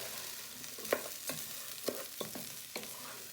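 Rice is stirred in a frying pan for special fried rice: a soft, low sizzle under a handful of distinct scraping strokes spaced about half a second apart.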